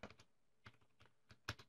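Keys tapped on a computer keyboard while entering a database name in Microsoft Access, a few sparse clicks and short bursts, close and quiet, with no talking.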